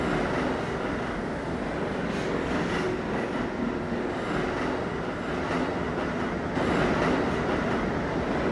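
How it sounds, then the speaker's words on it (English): A New York City subway D train, an R68 car bound for West Point, rolls steadily along the line with a continuous loud rumble and rail noise, and a brief swell of louder clatter near the end. "There's a West Point bound D train."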